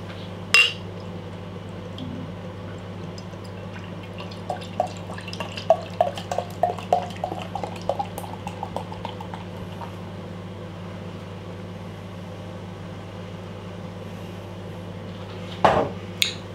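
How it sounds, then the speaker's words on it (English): Unfiltered bottle-conditioned beer trickles and bubbles from a bottle into a glass for several seconds against a steady low hum, with a couple of light clinks at the start and end. "let's get the beer out into a glass"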